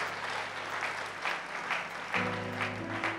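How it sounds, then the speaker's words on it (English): A church congregation claps hands during a Sunday morning service to welcome a guest, a steady wash of applause throughout, with organ or keyboard chords entering partway through. "Let's clap our hands and"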